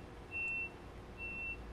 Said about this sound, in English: Safety beep.